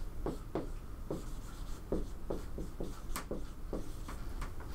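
A lecturer writing equations on a board, heard as a run of short scratchy strokes and taps in uneven bursts, close and moderately loud, with no talking.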